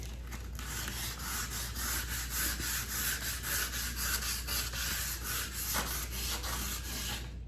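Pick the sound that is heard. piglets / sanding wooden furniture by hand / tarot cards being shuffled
sanding wooden furniture by hand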